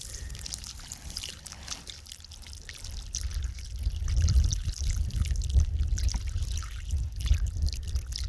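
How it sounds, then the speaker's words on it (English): Water poured slowly from the spout of a 2.5 gallon water bag onto desert soil around a young Joshua tree berm outdoors, a soft continuous trickle and splash that swells midway and stays steady, with faint wind and no talking. "Carefully, I poured water from the spout on the water bag"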